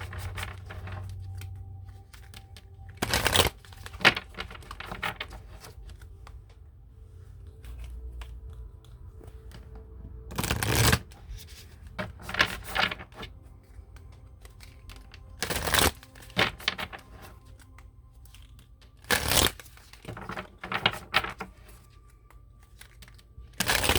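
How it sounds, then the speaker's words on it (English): Work Your Light Oracle cards being shuffled and handled, with several sharp riffling bursts separated by softer rustles and taps, close and fairly quiet. "So now I'm going to pull a Work Your Light Oracle card."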